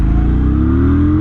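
2025 Kawasaki Vulcan 900 motorcycle accelerating hard in second gear, a loud, close engine note climbing steadily in pitch over a brief burst.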